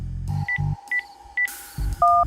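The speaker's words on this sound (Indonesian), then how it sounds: "Telepon polisi juga, Wan, buat jaga-jaga." Telephone keypad tones dial a number to call the police, a quick series of separate clear beeps with short gaps, ending in a sustained two-tone signal, heard alone without talk.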